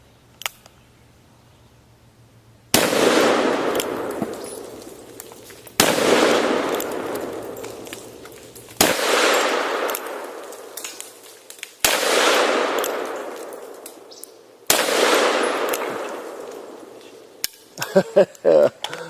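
Five very loud, close gunshots from a Smith & Wesson 500 Magnum revolver fired at cinder blocks, spaced about three seconds apart, each followed by a long decaying boom, then a short clatter of metallic clicks at the end.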